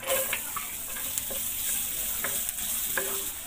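Garlic sizzles in melted butter in a pan, a close, steady frying hiss with intermittent scraping stirs of a utensil, for a dish of sitaw, saluyot and Chinese malunggay.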